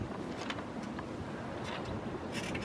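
Gusty, choppy wind buffets the microphone beside a DIY wind turbine in 25 mph winds, a low rumbling roar with uneven bursts and brief whooshes, fairly faint overall.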